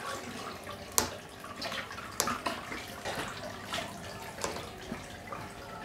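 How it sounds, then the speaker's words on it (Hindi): Water flows steadily from a pipe into a tank set up for large slider turtles, a continuous splashing rush with a few sharper drips and plops close by, with no talking. "पानी का फ्लो थोड़ा ज़्यादा लग रहा है"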